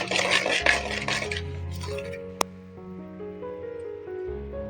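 Spoon stirring ground fenugreek and mustard powder into hot oil in a pan for tomato thokku: soft scraping and clinking against the pan, busy and hissy at first, then quieter with a sharp tap midway, no talk.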